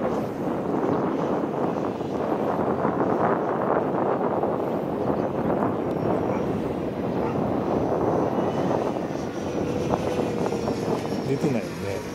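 A radio-controlled F-104 Starfighter model jet flies overhead, its engine a continuous whooshing roar mixed with wind buffeting on the microphone, while people talk throughout.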